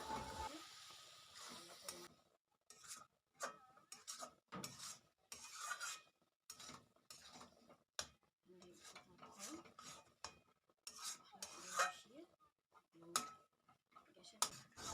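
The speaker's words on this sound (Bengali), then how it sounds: "এখন এই ঘি গরম মশলাটা দেওয়ার পরেও আমি বাঁধাকপিটাকে আরও কিছুক্ষণ নাড়াচাড়া করে নেব" Cabbage is stirred in a pan with ghee and garam masala for a vegetarian Bengali dish, with quiet, irregular scrapes and clinks of a utensil against the pan separated by short pauses.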